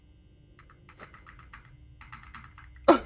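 A computer keyboard clicks in quick bursts of typing, near and fairly quiet against a low hum, ending in one sharp louder clack.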